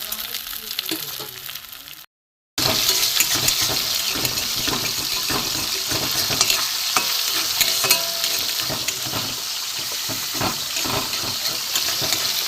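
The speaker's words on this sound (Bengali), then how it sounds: "তেল গরম হয়ে গেছে, আমি ডিমটা এতে দিয়ে দেবো।" An egg scrambled in hot oil in a pan, a loud, continuous sizzle and crackle close by, broken by a short silent gap near the start.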